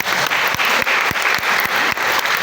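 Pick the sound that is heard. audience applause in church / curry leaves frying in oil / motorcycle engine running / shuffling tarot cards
audience applause in church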